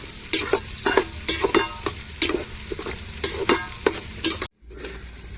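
Onions frying in a pan while being stirred to a reddish brown for a Tamil New Year dish, with a steady sizzle broken by repeated scraping strokes, then a short cut to silence and a continuing sizzle.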